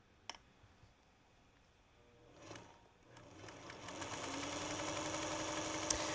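A sewing machine stitches quilt star blocks using the stitch-and-flip method along a marked line. A few light clicks come first, then a steady, close mechanical whir builds and runs continuously to the end.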